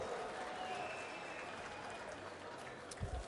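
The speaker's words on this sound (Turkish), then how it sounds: "İrfan Önal, Antalya, Korkuteli A adayını alkışlıyoruz" Audience applauding a candidate for Kırkpınar chief wrestler (ağa) from Korkuteli, Antalya: steady, moderately distant clapping from a crowd, continuous and even throughout, with an announcer's voice over it and a brief louder burst near the end.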